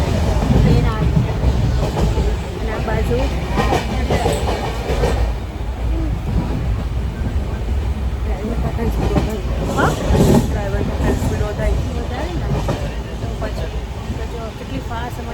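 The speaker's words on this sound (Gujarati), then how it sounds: "ટ્રેન આવી" A passenger train pulls into a station on a trip to Ujjain, its steady rumble and wheel clatter running loud and close throughout while people talk over it.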